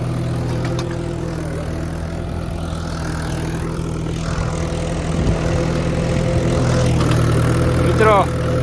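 A driverless tractor engine runs steadily at close range, a low continuous drone with a slight rise in loudness toward the end and a brief high chirping near the finish.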